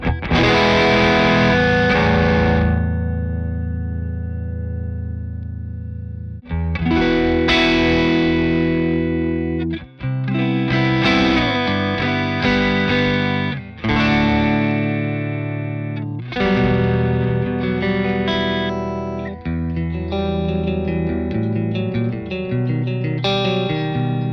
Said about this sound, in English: that's how you can hear the sort of cleaner end of the boost side of the pedal